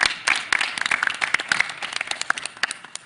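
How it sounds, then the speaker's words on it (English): A round of applause at a board meeting: many hands clapping in a dense burst that is loudest at the start and gradually thins out over about three seconds. "So please give them also another round of applause."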